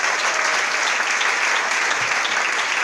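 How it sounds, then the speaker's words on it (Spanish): A church congregation applauds loudly and steadily throughout, a dense continuous wash of many hands clapping with no pauses and little talk. "Denle un fuerte aplauso al Señor."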